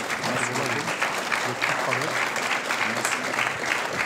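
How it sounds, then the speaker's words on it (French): An audience at an e-health awards ceremony applauds a prize winner with dense, sustained clapping that fills the room evenly, while a voice speaks faintly underneath. "On peut l'applaudir à nouveau."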